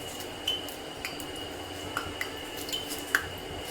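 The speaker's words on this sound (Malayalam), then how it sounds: "വെളിച്ചെണ്ണയിലേക്ക് കടുക് ഇടാൻ പോവുകയാണ്." A spoonful of mustard seeds going into coconut oil in a pan for a Kerala ash gourd and lentil curry: faint, sparse metallic clinks and light taps over a low, steady background.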